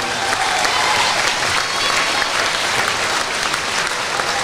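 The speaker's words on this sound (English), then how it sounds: "Let's give our Bulls a nice round of applause." Crowd in a school gym at a boys and girls basketball game applauding steadily, a dense, loud, even wash of clapping that holds at full strength for the whole stretch.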